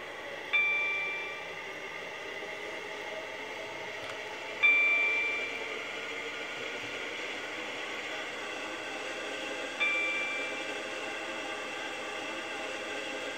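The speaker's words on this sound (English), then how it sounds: "Welcome aboard this Waterline train to Connolly." Steady hum and rumble from inside a moving SCR Waterline passenger train heading to Connolly, with three short tonal chimes spaced a few seconds apart over the constant ride noise.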